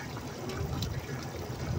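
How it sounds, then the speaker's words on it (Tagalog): Water poured into a cooking pot over carrots and potatoes for chicken in coconut milk, giving a short, close, continuous splashing pour. "Tapos, magdagdag lang ako dito ng tubig."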